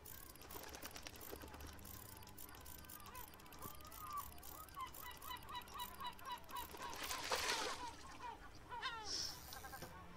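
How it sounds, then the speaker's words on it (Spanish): Seagulls squawk repeatedly in the pirate-themed video game Captain Bones, a run of close, harsh calls over a steady game soundscape, growing louder and busier toward the end. "Pinches gaviotas, ¿podré matarlas?"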